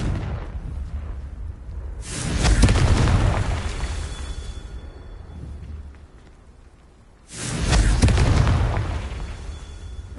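Two big booming Confringo spell explosions in a Harry Potter video game, each a loud blast with a long rumbling roar that swells then fades, several seconds apart.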